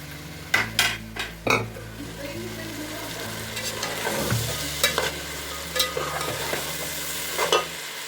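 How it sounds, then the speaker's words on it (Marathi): Peanuts and chakvat greens get stirred in a pan on the stove, with a constant sizzle and repeated close scrapes and clinks of the spoon against the pan over a steady low hum. "शेंगदाणे आणि चाकवताची भाजी ती यामध्ये मिक्स करते"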